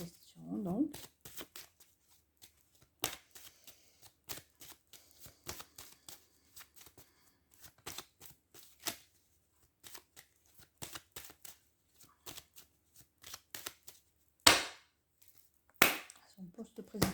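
Tarot cards are shuffled before a reading, with a rapid series of sharp riffling clicks and slaps spread across the passage, punctuated by a few louder snaps, and brief talk at the start and end.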